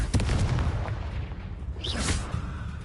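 Confringo fire spell in the Hogwarts Legacy video game, a booming fiery blast with rumbling low impacts followed by a whooshing, crackling burst, loud and up close over in-game ambience.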